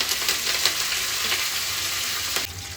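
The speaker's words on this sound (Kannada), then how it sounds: "ನಾನು ಇದಕ್ಕೆ ಸ್ವಲ್ಪ ಕರ್ಬೇ ಸೊಪ್ಪು ಹಾಕೊಂಡು ಚೆನ್ನಾಗಿ ಫ್ರೈ ಮಾಡ್ಕೊಳ್ಳಿ" Curry leaves fry in a pan with chana dal, urad dal and cumin for rava avarekalu upma, giving a steady close crackling sizzle with small spits and pops throughout, without any voices.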